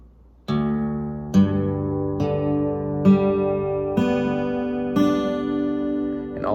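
Slack key acoustic guitar in Taropatch open G tuning, open strings plucked one at a time in a steady, unhurried sequence, each note ringing and overlapping the next, close and clear with no talking.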